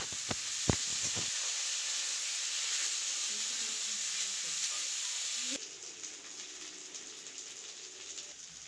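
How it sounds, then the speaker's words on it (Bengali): Cauliflower florets and potato pieces frying in hot oil in a pan, with black cumin and onion, give a steady loud sizzle throughout, a few sharp spits and clatters near the start, and the hiss drops slightly in level partway through. "পেঁয়াজটা ভাজা হয়ে গেলে আমি দিয়ে দিলাম ফুলকপি আলুগুলো ভাজার জন্য"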